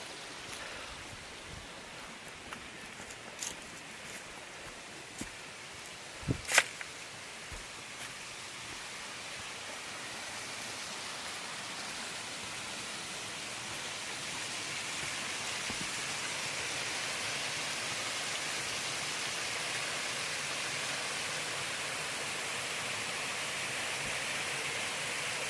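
Steady broadband rush of spring water flowing beside a trail near Winding Stair Gap, continuous and fairly close, rising slightly in level over time, with a few brief knocks and scuffs early on and no talking.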